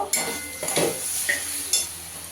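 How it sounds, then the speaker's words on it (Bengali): Potato and already fried pointed gourd are stir-fried in a pan for a mixed vegetable curry, with a constant sizzle broken by several sharp spatula scrapes and clanks against the metal. "পটলটা দিয়েও একটু দু মিনিট কষিয়ে নেব"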